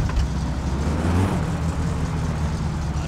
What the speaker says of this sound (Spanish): digo cómo suena el ventilador